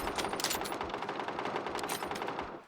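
Rapid automatic gunfire rattles in a video game, a fast continuous burst of shots at close range lasting the whole moment, with no talk.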